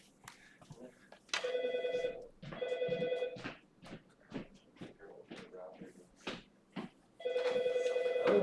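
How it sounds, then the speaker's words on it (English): A telephone rings in a classroom during a livestreamed lesson, its electronic bell sounding in three loud bursts over room murmur, with people talking faintly between rings. "my phone is ringing"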